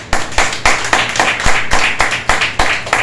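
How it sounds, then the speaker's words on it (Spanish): A church congregation claps together in praise at a religious service, roughly a dozen loud hand-clap bursts in a steady rhythm, with no talking over them. "Denle un fuerte aplauso a Dios."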